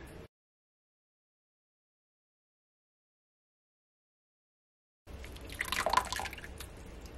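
Onion skin dye liquid poured through a strainer into an 8.5 by 11 inch baking pan about an inch and a half deep, heard as a short burst of splashing and trickling at the end after a long stretch of silence.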